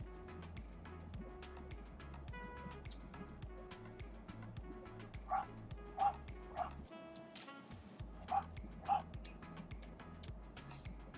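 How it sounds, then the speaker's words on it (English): A dog barking in several short, sharp yips spaced a second or so apart, fairly faint and set against background music with a steady beat. "Is she just barking just to be a barky butt?"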